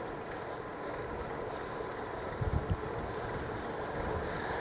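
Wind roars steadily across the microphone while a cyclist rides into a headwind on the open plains of Kansas, a dull constant rush with a few low buffets and no voices.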